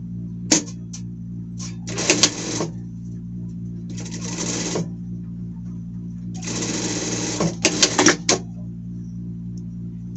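A sewing machine hemming a small pocket on a knit ragland-sleeve T-shirt runs in several short bursts of rapid stitching, close and clear, separated by pauses over a steady low motor hum.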